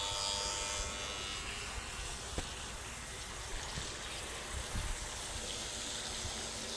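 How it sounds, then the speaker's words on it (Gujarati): A well water pump motor hums steadily with a broad, even hiss of rushing water, continuous and unbroken, with a couple of faint knocks. "જો મિત્રો આ છે ને આપણો મોટર ચાલુ છે"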